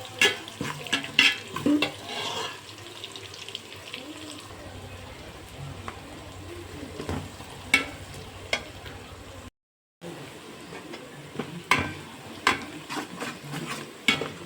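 Masala for mutton biryani sizzles steadily in a pan while a spoon stirs and scrapes it, with frequent clinks and knocks, one short silent gap and no speech.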